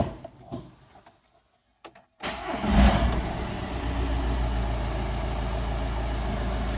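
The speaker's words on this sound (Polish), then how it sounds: "Ogólnie silnik ładnie chodzi" A Volkswagen Golf Mk5 with an EGR valve fault (code P0401) cranks and fires after a brief silence, then settles into a steady, even idle that stays close and fairly loud.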